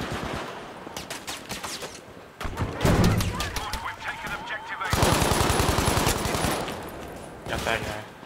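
A bipod-mounted machine gun fires in Battlefield V, with rapid bursts of automatic gunfire and dense fusillades, loud and close, along with other battle noise and brief bits of talk.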